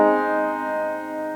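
A submediant chord reached by deceptive resolution from the dominant in a minor key: a single sustained harmonic chord, steady and fairly loud with rich overtones, held alone for just over a second.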